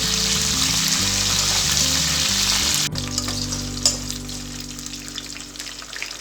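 Peanuts, dried red chillies and curry leaves crackle loudly in hot oil for a masala pulihora tempering, a strong hiss under a low hum that suddenly drops to a softer sizzle with scattered pops.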